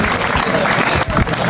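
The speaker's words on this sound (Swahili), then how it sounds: "mpigeni makofi." An audience at a high school alumni 60th anniversary gathering in Wajir applauds, a dense wash of clapping with a voice talking over it.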